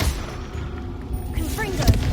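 A Confringo fire spell from Hogwarts Legacy bursts with a short, loud boom near the end, following a brief rising whoosh, over a busy layer of game sound and voices.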